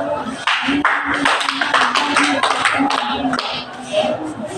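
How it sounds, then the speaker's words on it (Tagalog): A classroom of students claps together in quick bursts, loud and close, the sharp slaps running in an uneven cluster rather than five clean beats, with voices mixed in. "Bigyan niyo ang inyong mga sarili ng limang palakpak."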